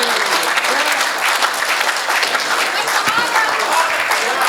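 Loud applause from an audience at a Hindi comedy poetry show, a dense sustained wash of clapping that runs for the whole clip.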